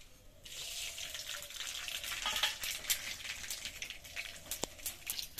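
Black mustard seeds and a bay leaf fry in oil with a continuous crackling sizzle, close and moderately quiet, punctuated by small pops and spits.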